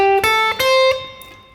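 A guitar descends a pentatonic scale position in short ascending note groups, a handful of clear plucked notes ringing out alone before fading.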